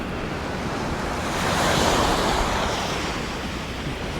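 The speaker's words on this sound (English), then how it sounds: "this is Bang Tao Beach here in kind of the north of the island, but the beach is really nice" Surf at Bang Tao Beach in Phuket, Thailand, a steady close wash of breaking waves that swells louder midway, with no voices.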